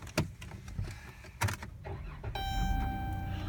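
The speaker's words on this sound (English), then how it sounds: "I'm going to start the vehicle up for you." A 2013 Chrysler Town & Country minivan starts up after a few clicks and key sounds, a short starter crank giving way to a steady idle hum with a faint chime tone over it, close and without talk.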